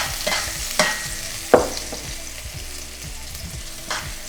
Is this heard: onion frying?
yes